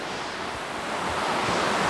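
A waterfall on a hiking trail in Tejutepeque, Cabañas, El Salvador gives a constant close, loud rushing roar of falling water that swells slightly toward the end, with no voices.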